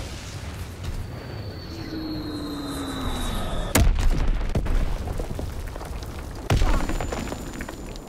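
Bombing run explosions in a combat video game: two sharp booming blasts land a few seconds apart over a steady droning background, with descending whistles before the first blast.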